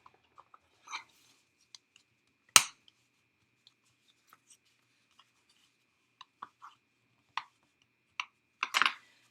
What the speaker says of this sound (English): Now we're going to fold this over and we can use our bone folder again